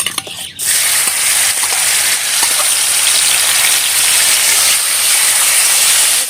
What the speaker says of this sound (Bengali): কড়াইটা বসিয়ে আমি এখন চিকেনটা ভেজে নেব।